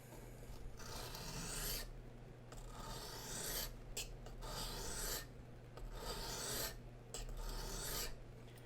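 A knife blade rasps along a Smiths Tri-Hone 6-inch sharpening stone in long repeated strokes, each a sustained scraping pass separated by brief pauses, close and steady.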